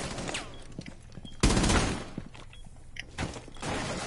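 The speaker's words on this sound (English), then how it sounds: "I'm hearing shotguns near me." Shotgun blasts in a multiplayer shooter on a skyscraper map, one loud close boom in the middle, a few quieter reports and mechanical clicks scattered around it.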